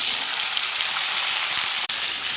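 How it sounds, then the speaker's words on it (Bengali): Vegetables and panch phoron spices sizzle in hot oil, giving a steady, even hiss that runs unbroken and fairly loud, with no voices over it. "তেল পুরো গরম হয়ে গেছে, পাঁচফোড়ন দিয়ে দিলাম, আর এখানে সব সবজি একসাথে তুড়াহুড়া করে দিয়ে দিলাম।"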